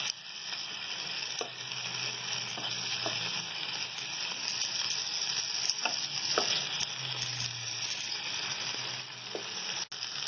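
Chicken pieces for a smoky biryani fry in a pan after being turned, a steady close sizzle with occasional soft stirring scrapes and faint taps throughout.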